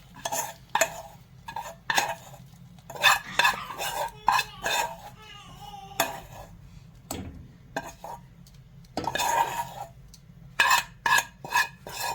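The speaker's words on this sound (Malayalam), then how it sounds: "ചേർത്ത് നന്നായിട്ട് ഇളക്കി യോജിപ്പിക്കണം." A spoon stirs and mixes koottu curry in a pot, making repeated close scraping and rasping strokes against the metal in irregular bursts with short pauses between them.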